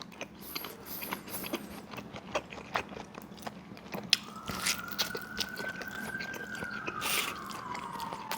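Biting and chewing into a thick, cheesy Chicago-style sausage pizza topped with chunky tomato sauce: soft, close crunching and mouth sounds in an irregular rhythm, quiet and intimate, with no talking.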